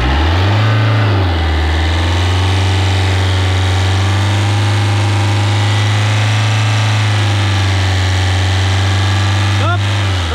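A Fiat 1.9 JTD diesel engine with a leaking, sticking injector runs loud and close, holding a high steady drone after a brief rise and dip in pitch. A short sharp sound breaks in near the end.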